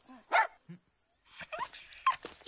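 A dog barks and yips in a few short, close bursts separated by brief pauses, with some whimpering sounds in between.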